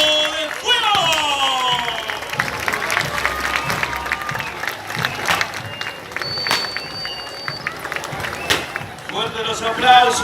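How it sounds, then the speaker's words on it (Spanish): Crowd applause and cheering ring out after a caporal carnival dance troupe's performance at a festival in Rosario de Lerma, Salta, steady clapping with shouts and a voice over a loudspeaker throughout. "Fuertes los aplausos, señoras y señores."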